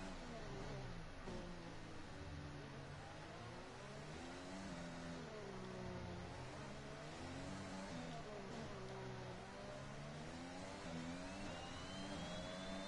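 A Formula 1 car engine in the racing game F1 2021 revs and drops in repeated rising and falling sweeps, a continuous loud whine through gear changes.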